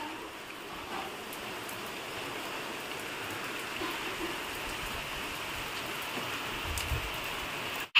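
Steady rain falls alone, a continuous soft hiss of drops on surfaces without any break or voices.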